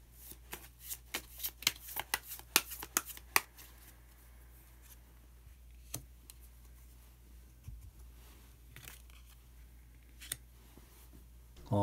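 Tarot cards riffled and shuffled in a rapid burst of crisp, close snaps, then a few sparse flicks and slides as single cards are drawn and laid down in a quiet room.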